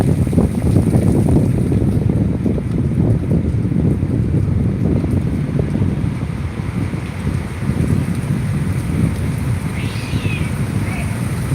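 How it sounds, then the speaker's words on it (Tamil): Strong, steady wind roars over the microphone with a dense wash of heavy rain during a thunderstorm, loud and continuous throughout. "செம்ம மழை காற்று சவுண்ட் கேட்குதுங்களா"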